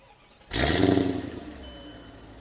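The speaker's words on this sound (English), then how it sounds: "A exhaust startup on my car." A W211 Mercedes E55 AMG with long-tube headers and CLS 63 mufflers fires up close by. There is a sudden loud roar that settles into a rumbling idle within about a second, with no talking.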